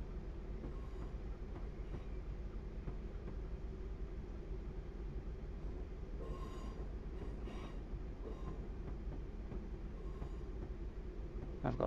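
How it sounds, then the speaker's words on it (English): A First Great Western HST with intercity coaches passes in Train Simulator Classic: a continuous rail rumble with wheel noise and a few faint clicks and squeals over the track, steady in level throughout. "First Great Western HST with the intercity coaches."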